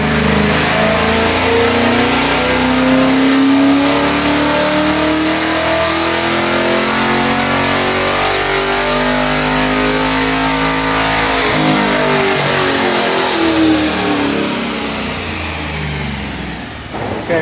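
A C8 E-Ray Corvette fitted with Kooks 2-inch longtube headers roars on a dyno, its engine pulling loud and continuous with pitch climbing steadily before easing off near the end.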